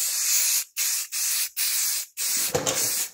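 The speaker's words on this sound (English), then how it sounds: "you probably don't want to watch me paint a table" Short bursts of spray paint hiss onto a table, four close, even blasts with brief pauses between, then a last longer spray ending with a faint rattle.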